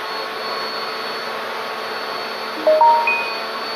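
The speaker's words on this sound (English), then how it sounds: "So I'm gonna take it and I'm gonna blow dry it." A hair dryer blowing on hair during a sew-in weave, a steady even whoosh running throughout, with a brief bump in loudness near the end.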